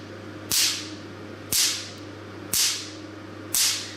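Four sharp, crisp snaps from a picosecond laser treatment device firing 600-picosecond pulses, evenly spaced about a second apart, each a loud short crack over a steady low electrical hum.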